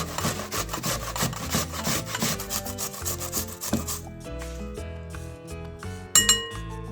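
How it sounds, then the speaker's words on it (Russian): A medium onion is rubbed against a coarse grater for a Persian ash-e dugh soup, a busy run of rapid scraping strokes with occasional light clinks, fairly close and steady with no talking. "Натрем на крупной терке один средний лук."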